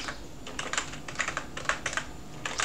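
Fingers typing on a computer keyboard with a French layout, rapid irregular clicking keystrokes in short bursts, close and clear, with no talking.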